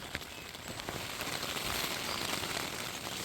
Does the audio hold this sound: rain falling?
yes